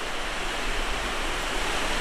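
A waterfall on a hiking trail in Oregon roars as a steady, dense rush of falling water, fairly close and constant with no voices.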